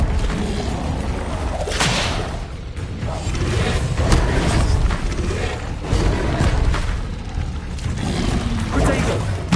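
Incendio fire spells are cast repeatedly in a Hogwarts video game, loud whooshing bursts and booms surging through a dense, continuous battle din, with voices shouting among the blasts.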